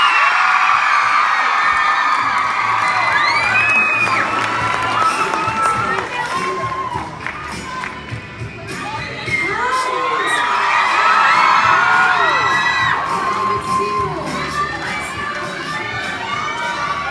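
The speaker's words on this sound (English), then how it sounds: "Give a round of applause for Millie Bobby Brown." Large convention crowd at a fan event in Chicago cheering loudly, with high-pitched shrieks and whoops from many fans over steady applause, sustained and dense throughout with a brief dip midway.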